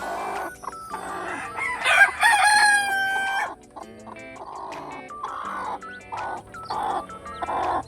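Native crossbreed and Rhode Island Red hens and chicks cluck and peep close by in a run of short, repeated calls, with a louder crowing-like burst partway through and brief pauses between calls.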